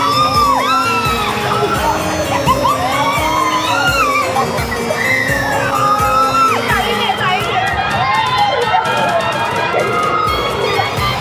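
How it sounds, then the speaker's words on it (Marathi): Riders on a spinning fair ride at Prabhadevi Jatra in Mumbai scream, whoop and yell together, a loud, continuous wash of overlapping voices over rumbling machinery. "नुसता किंचाळायचा आवाज येतोय मंडळी इथे लोकांचा."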